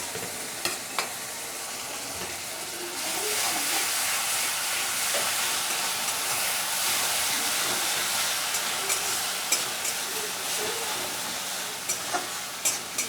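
Onion and chili paste fries in hot oil for a rohu fish curry with eggplant, a soft sizzle swelling into a loud steady crackle after a few seconds, with occasional stirring clicks.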